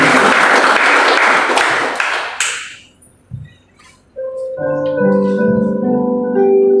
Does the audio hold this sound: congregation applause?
yes